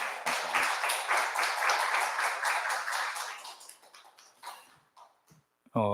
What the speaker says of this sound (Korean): 박수로 우리 자리에 모시도록 하겠습니다